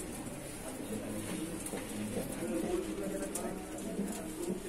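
Madrasi pigeons in a loft in Shyamnagar coo softly and intermittently, faint low murmurs against a quiet background with some indistinct voices.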